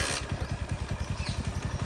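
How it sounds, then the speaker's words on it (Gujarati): A motorcycle engine runs close by on a farm, putting out a fast, even chugging pulse that stays loud and steady throughout with no voices. "બાઈક ચલાવવાનો અવાજ થાય"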